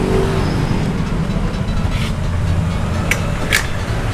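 A carbureted Honda Vario scooter engine runs steadily with no battery fitted, a loud, close, continuous idle with a couple of brief higher rattles near the end.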